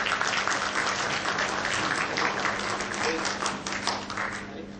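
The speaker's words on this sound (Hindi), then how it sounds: "दोस्तों जोरदार तालियां हो जाए हमारे सभी अतिथियों के लिए" Applause for guests at a Delhi awards ceremony, a dense steady clapping from a large audience that holds throughout and eases slightly near the end.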